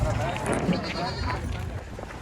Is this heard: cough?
no